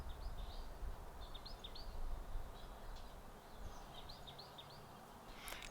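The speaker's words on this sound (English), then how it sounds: "I'm just going to listen to the birds for a minute." Faint birdsong: repeated high chirps and short warbling calls scattered over a steady low outdoor rumble, fairly distant.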